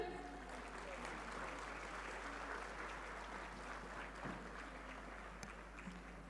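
Audience applause at an international drug regulatory conference, steady sustained clapping from a large crowd filling the hall, fairly distant with a low hum underneath.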